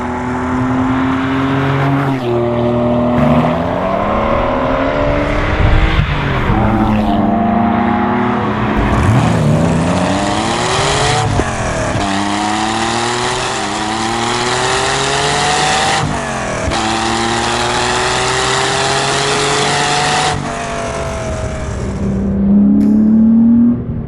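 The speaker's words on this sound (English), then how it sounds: "most minute prod of that gas pedal results in instantaneous acceleration all the way up to the red line" A loud straight-piped, tuned Porsche 911 964 engine revs hard through repeated gear changes, rising pitch sweeps climbing to the red line and dropping as it accelerates up close, with no talking.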